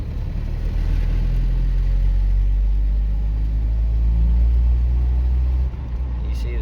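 A Toyota 22RE four-cylinder truck engine is held at full throttle in third gear while it shakes. Heard from inside the cab, it makes a loud, steady low rumble and drone that dips briefly near the end.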